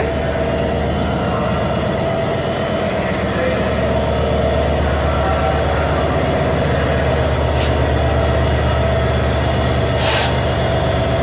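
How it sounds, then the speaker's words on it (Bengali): American EMD 66 series locomotive number 6617 running, a steady loud low diesel drone with a rhythmic throb, heard close with people talking over it. "এই হচ্ছে সেই আমেরিকান লোকোমোটিভ 6617।"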